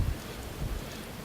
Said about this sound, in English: Rain, go away.